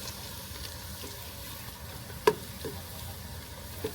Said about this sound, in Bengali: মাংস রান্নার জন্য আমরা প্রথমে পেঁয়াজগুলোকে দিয়ে দিচ্ছি।